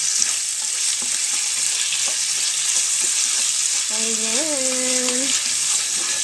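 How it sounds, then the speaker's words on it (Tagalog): Beef sizzles and crackles steadily in a hot pan as it is stirred for pancit canton, loud and close throughout, while someone says a word and a tonal whine rises briefly near the end. "ilapag na natin ang ating carne at halu-haluin hanggang sa ating mag-brownie."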